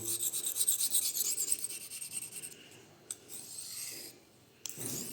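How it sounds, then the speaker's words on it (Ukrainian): A knife rasps against boron carbide in quick, close strokes, a gritty filing scrape that thins out and turns quieter and patchy toward the end. "Зараз я об карбід бора його"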